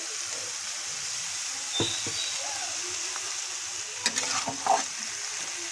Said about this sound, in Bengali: দিয়ে দিচ্ছি লবণ হলুদ মেখে রাখা বেগুন